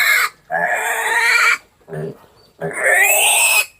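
A piglet being dewormed with an ivermectin injection from a disposable syringe lets out loud, shrill squeals in three long bursts with short gaps, very close.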